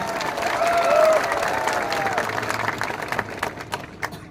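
Crowd applause at an outdoor political mass rally in Sabroom, a broad steady wash of clapping that swells early and then thins out over a few seconds, with no clear voices on top.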